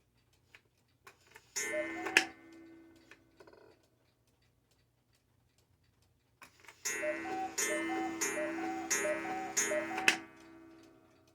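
A vintage 1980s West German Regula Black Forest mechanical cuckoo clock with a 30-hour movement ticks and sounds in two clear close bursts, separated by a quiet gap, in a room full of running clocks.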